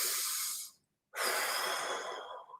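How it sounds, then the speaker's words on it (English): Someone takes a deep breath during a neck stretch: one long airy breath out, a brief silence, then a deeper drawn breath that slowly fades, close and soft. "I take a deep breath"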